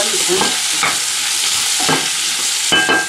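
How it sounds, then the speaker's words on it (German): Vegetables sizzling in a frying pan while being stirred, a steady loud fry hiss with several distinct scraping stir strokes spaced through it, close up, no talking. "Bloß das Gemüse nicht vergessen, zwischendurch umrühren"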